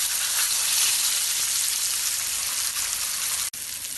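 Pomfret fish sizzling steadily in hot oil in a pan, a loud dense frying hiss that holds even throughout with one brief dropout near the end.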